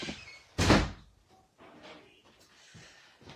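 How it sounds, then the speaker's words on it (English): A kitchen door is pushed shut with a single loud, close thud, followed by faint shuffling and quiet room noise. "check that the kitchen door's shut, Kelsey"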